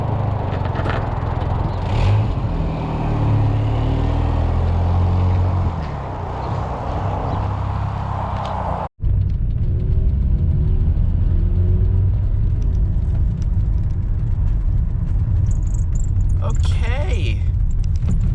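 A filthy 1997 Volvo 940 bought at auction idles with a rough, rumbling exhaust, a steady low drone running close and loud throughout, with a brief dropout partway and faint higher noises near the end.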